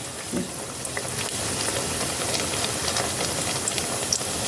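Egg snacks dropped one by one into hot oil on low heat, a steady close bubbling sizzle with soft crackles and spits, constant and fairly loud with no talking.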